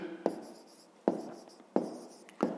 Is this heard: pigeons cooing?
no